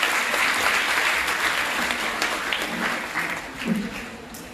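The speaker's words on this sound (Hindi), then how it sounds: "जोरदार तालियां बजाइए।" Applause from an audience in a hall at a charity's sewing machine distribution event, a broad wash of clapping that stays strong, then slowly thins toward the end.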